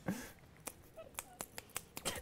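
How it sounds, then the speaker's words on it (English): Fingers snapping in a loose, uneven rhythm, about eight crisp clicks in two seconds, fairly close, with faint background noise and no talk. "I said claps as I'm snapping."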